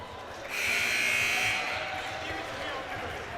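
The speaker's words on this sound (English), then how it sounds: "As the buzzer sounds, signaling the end of the timeout" A loud, sustained electronic buzzer ends a timeout at a high school basketball game, blaring for about a second over a noisy indoor crowd, then the crowd noise continues.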